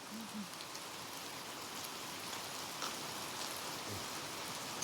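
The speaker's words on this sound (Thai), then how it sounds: "ฝนตกพี่น้อง" Rain falls steadily in a soft, even hiss, with scattered drops pattering on a surface nearby; no one speaks.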